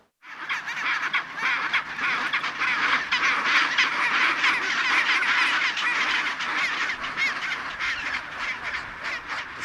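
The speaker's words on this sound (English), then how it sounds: "a great chance to see a lot of the nesting birds, not just penguins, but pintado petrels, as well as other birds" Dense chorus of nesting seabirds in a snowy valley, penguins and pintado petrels among them, calling continuously and loudly with overlapping squawks and honks throughout, no talking.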